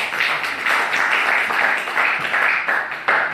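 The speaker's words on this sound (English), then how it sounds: "give him a round of applause" An audience in a spiritual lecture hall breaks into a round of applause, a dense wash of hand clapping that swells and pulses for a few seconds with no speech over it.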